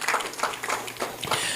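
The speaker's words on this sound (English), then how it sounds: "Let's also give them a very warm round of applause." Brief burst of audience applause at a public interest litigation conference forum, a room of scattered hand claps filling the space evenly throughout, with faint murmur underneath.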